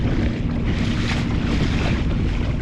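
Choppy sea water slapping around a fishing kayak on open ocean, a continuous loud wash of waves mixed with heavy wind buffeting the microphone, no voices.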